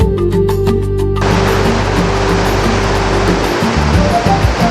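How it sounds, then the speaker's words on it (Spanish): Roaring water of Victoria Falls (Mosi-oa-Tunya) in Zambia, a loud, steady broadband rush that fills the whole clip without a break. "bien cerca de la comunidad encontramos las cataratas de Victoria Falls"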